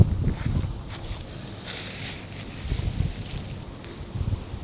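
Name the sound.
wind blowing while pitching an ultralight tent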